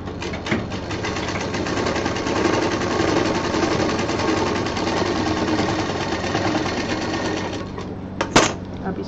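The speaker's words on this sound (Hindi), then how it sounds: "इसको दबा के हम यहाँ पे सिल देंगे" A sewing machine runs close up with a steady, rapid mechanical whirring and stitching rattle as it sews a DIY expandable bag, stopping near the end with a brief clunk.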